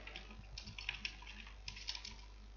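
Someone types PHP code on a computer keyboard, close, faint clicking keystrokes in short uneven bursts over a steady low hum, with no talking.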